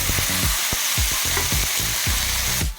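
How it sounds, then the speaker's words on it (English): Chopped tomatoes stir-fried in a pan after onions, producing a loud close sizzle with rapid scraping and clattering strokes of a spatula in a quick irregular rhythm, cutting off sharply at the end, with no speech. "At this stage, let's add chopped tomatoes. And stir fry it for about 2 minutes."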